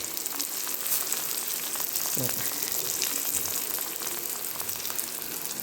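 Vegetables and ginger sizzle and crackle steadily in a hot pan while being roasted for vermicelli upma, with a brief stirring scrape partway through, all close and moderately quiet.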